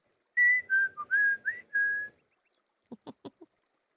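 A person whistles a short wavering tune of five notes, followed by a few brief clicks or taps, close and clear with no talking.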